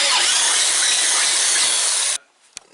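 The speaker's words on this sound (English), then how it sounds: "we're going to drill a hole to mount our light here" A power drill bores a hole for mounting an ATV LED headlight, giving a loud, steady high-pitched whine with hiss that runs for about two seconds, then cuts off abruptly, followed by faint clicks.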